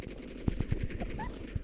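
Rapid gunfire from the battle royale video game PUBG, a quick run of about half a dozen sharp, evenly spaced shots close up, with no talking.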